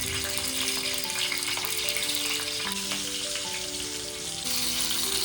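Steady, loud crackling sizzle of green chillies frying in hot oil on a griddle, continuous throughout with no voices.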